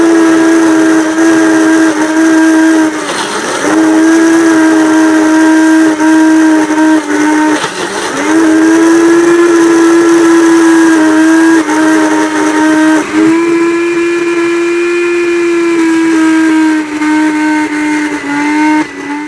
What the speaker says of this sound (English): The blender made these horrendous sounds as it was cavitating and basically stopped blending